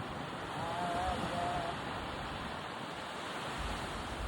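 Sea waves wash steadily at the shore in Karwar, a continuous broad rush mixed with wind noise on the microphone, heard from nearby with no talking.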